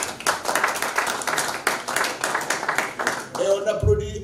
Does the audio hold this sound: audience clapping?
yes